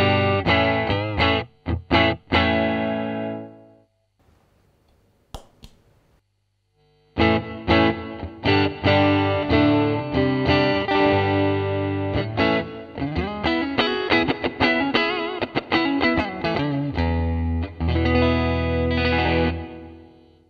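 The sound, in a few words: dry electric guitar through a Fender Pro Junior amp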